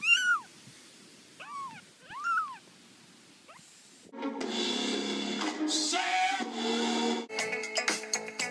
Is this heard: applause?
no